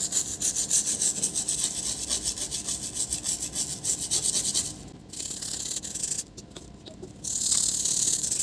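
Cleaning the processor heatsink inside a Lenovo laptop that shows a blinking charging light but won't power on gives a steady scratchy rubbing and brushing, close and continuous with a few short pauses.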